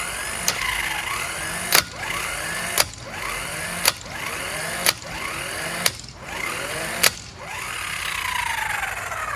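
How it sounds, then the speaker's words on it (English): A Vevor 12V electric impact wrench runs with a continuous whirring motor drone, broken by sharp clicks roughly every second, loud and close. "now that we know that impact wrench works"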